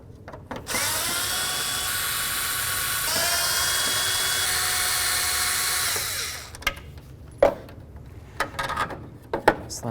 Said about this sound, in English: we're going to remove the 4 mounting screws for this lens assembly right here